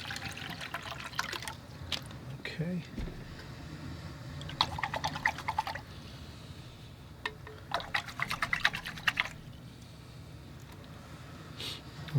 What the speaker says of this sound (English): I'll use some handy bottled water here.